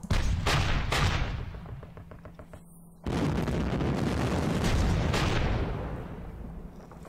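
Heavy artillery guns firing in a Panzer Campaigns wargame set around Kharkov in 1943, sharp booming blasts followed by a long rumbling roar of explosions, loud and close.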